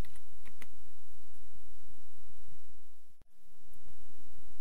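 Typing on a computer keyboard while entering a Vim help command: a steady patter of soft key clicks over a light hiss, with a brief pause near the end.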